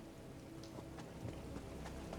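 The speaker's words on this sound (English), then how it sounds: "So, we are in Apocrypha, where we get this Dark Rain" Dark Rain falls in Apocrypha in the video game Elder Scrolls Online, a very faint, steady hiss with scattered soft drop ticks and no talk.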